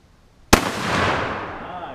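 A 12 gauge shotgun slug fired into a microwave outdoors in a backyard: one sudden, very loud blast that ends a near-silent lead-in, followed by a long, rolling echo that fades slowly.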